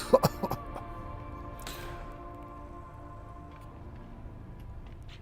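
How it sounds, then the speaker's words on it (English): A quick burst of three or four short coughs at the start, close and fairly loud, then only a faint steady hum. "just a bit of a cough"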